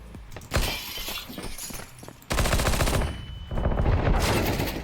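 P90 submachine gun fire in Counter-Strike 2, two long rapid bursts of close, loud automatic shots separated by a short pause, with no talking.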